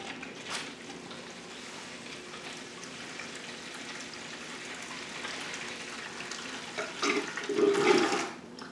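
Water drains steadily, then swells into a gurgling, sucking rush near the end as an unvented P-trap is sucked empty.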